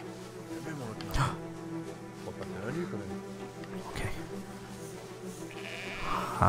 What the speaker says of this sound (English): Okay, quiet now, sheep.